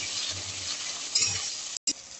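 Chopped tomato and green chillies frying in a pan for a mustard chicken curry, a close, steady hiss with soft stirring scrapes for about two seconds before a brief dropout.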